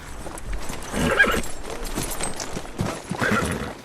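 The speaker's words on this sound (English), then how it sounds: "the main hero rides in to dismount his battle-ready horse" A battle-ready horse is ridden in and dismounted in a movie scene, with close hoof clops and snorting over a faint background and no talk.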